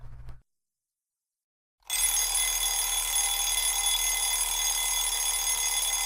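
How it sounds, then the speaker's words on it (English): A short thump is followed by silence, then an alarm clock starts a loud, continuous metallic ringing that runs unbroken to the end, close and dominant. "I turned off the ringing alarm clock and got out of bed."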